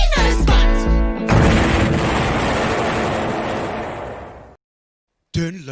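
An explosion sound effect: a sharp musical sting gives way to a loud, booming blast that rumbles and slowly fades over several seconds, then cuts to silence before another sound briefly starts.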